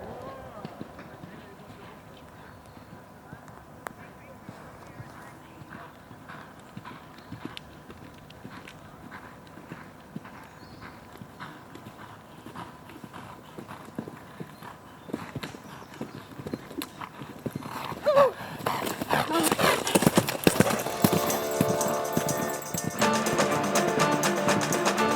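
A thoroughbred horse's hooves clop on a cross-country eventing course, faint and steady at first, then louder as the horse gallops closer near the end, with commentary talking throughout.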